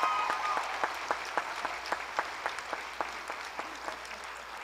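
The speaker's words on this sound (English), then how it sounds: "Would you give her a round of applause?" A commencement crowd applauds the campus president, steady sustained clapping from a large audience with distinct nearby claps ticking through the wash of sound.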